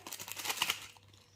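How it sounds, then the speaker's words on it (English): Plastic specimen bag crinkling as a used saliva-test funnel is pushed inside, a close, soft rustle of about a second that fades into quiet. "we will dispose the funnel in the specimen bag"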